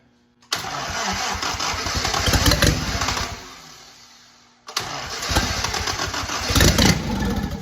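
An old engine cranks and catches, runs roughly with uneven sputtering, briefly dies down, then starts again and idles unsteadily.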